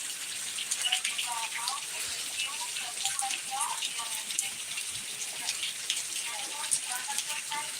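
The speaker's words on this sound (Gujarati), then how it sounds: "ફૂલ વરસાદ ચાલુ છે અત્યારે" Steady, dense rain hisses throughout, a continuous broadband wash with occasional brighter splashes and faint chirps in the background.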